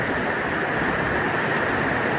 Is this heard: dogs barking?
no